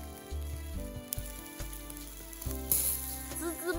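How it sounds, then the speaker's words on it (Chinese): Skewered chicken legs roasting over charcoal, giving a soft, steady sizzle with scattered crackles and pops as fat drips onto the coals, quiet and close with no talking. "滋滋冒油，香得很嘞。"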